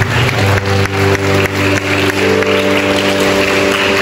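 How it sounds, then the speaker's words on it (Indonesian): A church congregation claps loudly and steadily for a few seconds, a dense, continuous burst of applause with a faint tonal hum underneath. "Tepuk tangan untuk ini."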